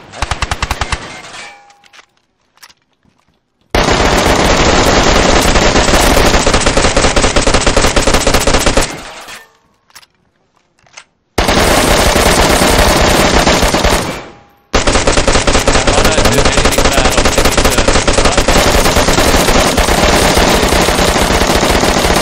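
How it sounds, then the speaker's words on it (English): Bursts of automatic gunfire in the video game DayZ, loud, rapid machine-gun volleys in several long stretches separated by brief silences. "What the fuck are you guys shooting up there?"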